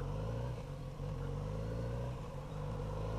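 A Kawasaki Z900RS motorcycle engine hums steadily and loudly with low rumbling, holding a near-constant pitch with slight dips, close by and without any talking.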